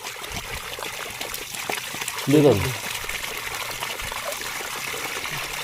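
Water trickling through a rice field irrigation channel, a steady low wash running throughout with someone speaking briefly over it midway.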